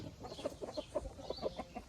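An Araucana hen gives soft, repeated clucks close by, low murmuring calls in a loose rhythm over quiet farmyard background.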